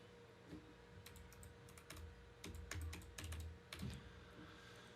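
Keys clatter on a computer keyboard as an IP address is typed in, short bursts of close, crisp clicks with brief pauses between them and no voices.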